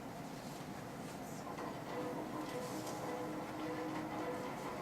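A sealed passenger train carries revolutionaries directly from Switzerland across war-torn Europe, giving a steady, continuous rolling rumble of wheels on rails with faint mechanical clatter, moderately loud and unbroken, with no voices.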